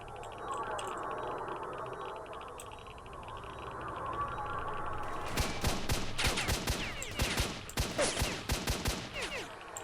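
Gunfire in S.T.A.L.K.E.R.: Shadow of Chernobyl: after several seconds of low ambient rumble, rapid loud bursts of close automatic shots crack out in irregular volleys, with faint talk underneath.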